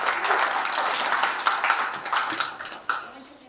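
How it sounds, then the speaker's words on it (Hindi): Audience applause at a mushaira poetry gathering, a dense wash of clapping that swells and fades over a few seconds, with faint voices mixed in. "एक बार जोरदार ताली"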